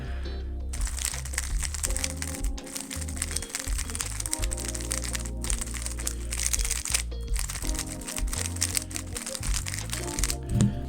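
A lubricated Dayan Guhong Pro speed cube being turned rapidly by hand, producing a dense run of soft clicky, crinkly rattles with brief pauses between bursts of turns.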